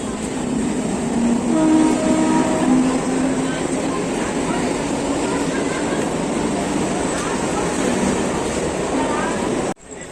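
A train rumbles loudly and steadily close by at a railway station, with a sustained horn-like tone early on and a continuous roar of wheels on rails until it cuts off.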